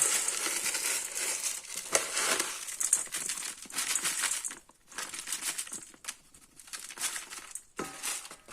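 Dry paleo bread mix rustles and patters as it spills from a crinkling bag, in uneven bursts with short pauses, close by.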